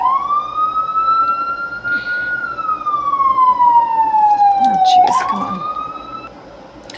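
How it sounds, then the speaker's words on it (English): A loud siren wails steadily, rising and falling in pitch, with a brief spoken exclamation near the end. "sorry about the siren"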